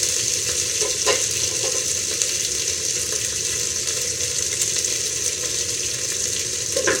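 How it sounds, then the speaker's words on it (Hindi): Garlic paste fries with onions in a pan, giving a steady, dense sizzle that stays close and fairly loud throughout, with faint stirring scrapes and no talk. "लहसुन का पेस्ट डालते हैं।"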